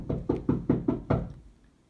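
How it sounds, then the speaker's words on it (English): Five or six firm knocks on a door in a quick, even rhythm, close and clear, fading into a short silence. "Somebody knocked."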